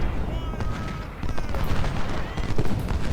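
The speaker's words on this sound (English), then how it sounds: "our Napoleon guns are getting a good few volleys off" Napoleon cannons fire volleys across a Civil War battlefield in Ultimate General, with repeated heavy reports and crackling musketry overlapping in a busy, loud mix while voices sound faintly under the gunfire.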